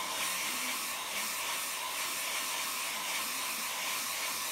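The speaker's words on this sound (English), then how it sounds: "The answer is a hairdryer," A hairdryer blows over a watercolour seascape painting, producing a loud, continuous, even whooshing hiss with no talk.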